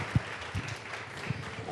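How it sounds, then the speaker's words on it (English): Soft, diffuse applause from a conference audience greets sitar player Rishab Sharma, heard as a faint hall-wide patter with a few low thuds and no talking. "let's have a big round of applause for Rishab Ricky Ram Sharma"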